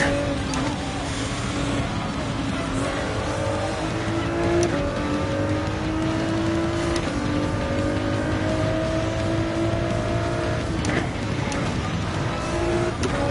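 A Nissan GT-R race car in Gran Turismo 7, its engine note rising and falling in steady loud gear pulls throughout, with brief tire and pass-by sounds and occasional faint voice.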